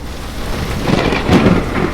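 A thunderstorm rolls in as a storytelling sound effect, with steady rain hissing throughout and a deep rumble of thunder swelling in the middle, alone and fairly loud.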